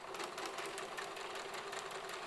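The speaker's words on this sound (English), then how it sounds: "So I continue on sewing at my 5/8 seam allowance." A sewing machine stitches straight forward along a 5/8 seam allowance in fabric with a steady, rapid whirring hum, continuous and close.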